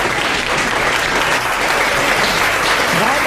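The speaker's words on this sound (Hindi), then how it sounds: "इनके लिए एक बार जोरदार ताली।" Loud, sustained applause from a seminar audience of students, a dense continuous roar of clapping hands close by, with a few voices faintly mixed in.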